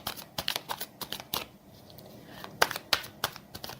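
Tarot cards are shuffled and drawn by hand, a run of quick crisp flicks and slaps in uneven bursts with a quieter pause in the middle, close and clear.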